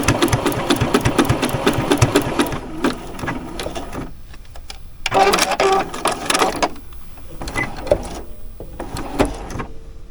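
A new sewing machine runs decorative stitches in several bursts of fast, even mechanical whirring, stopping and restarting with short pauses between, close by, with a person speaking briefly in the gaps.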